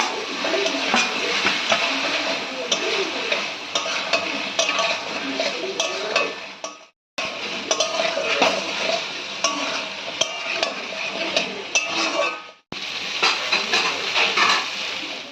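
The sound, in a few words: sautéing fish roe fritters with potatoes and spices in a pan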